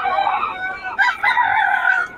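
Several gamecock roosters crow one after another at a Bocaue market, loud and close, with their harsh calls overlapping across the clip.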